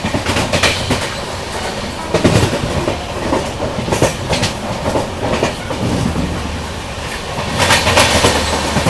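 A Jaipur–Mumbai nonstop special train runs on the rails at speed, a continuous heavy rumble with repeated clickety-clack wheel beats and rattling cars passing close, loud and without voices.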